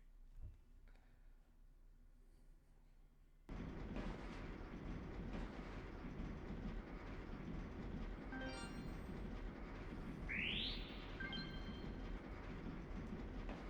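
Inside the Covert Ops: Nuclear Dawn video game, a train rattles steadily along the rails with a dense, continuous rumble and clatter, joined by a few brief metallic squeals partway through.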